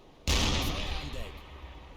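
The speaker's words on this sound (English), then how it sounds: "They could probably hear the guns firing." A U-boat deck gun fires one loud, sharp blast in the submarine game Uboat, followed by a long rumbling decay as the sound fades.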